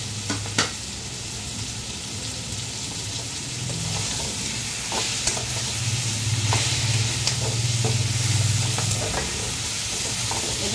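Six pieces of mutton frying for a vegetable stew, a loud continuous sizzle and hiss with occasional scrapes and knocks of a utensil against the pan, no talking.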